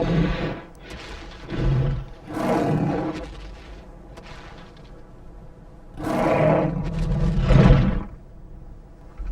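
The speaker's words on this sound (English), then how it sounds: "Another male has heard the roar of the female." Deep, drawn-out Tarbosaurus roars rumble in several separate bursts, some loud and harsh, with quieter gaps between them.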